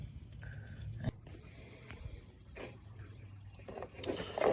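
Engine oil drains in a steady trickling flow from the drain hole of an Audi A8 D3, a faint liquid dribble with occasional drips and small clatters close by.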